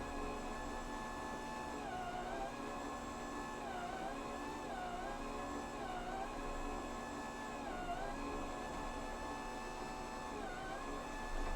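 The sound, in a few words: Dash bread maker mixing and kneading dough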